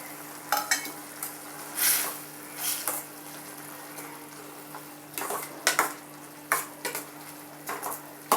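Mushroom masala with ground spice powder sautés on a high flame in a pan, with a steady sizzle broken by repeated scraping and stirring strokes that come in uneven bursts.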